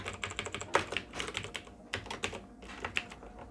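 Computer keyboard typing while laying out text for a wedding card in CorelDRAW: quick, uneven keystrokes clatter close up for about three seconds with short pauses, and nobody speaks.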